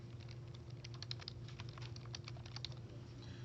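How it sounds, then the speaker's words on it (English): A computer keyboard is typed on to enter a name in drawing software, a quick, irregular run of light key clicks heard close and faint over a steady low hum. "And now you can type your name."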